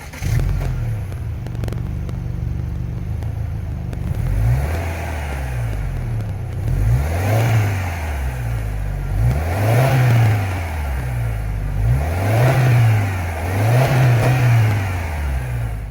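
A 2025 Subaru Outback Touring XT's 2.4-liter turbocharged boxer four-cylinder engine revs repeatedly, its deep boxer burble rising and falling in steady waves, loud and close with no talking.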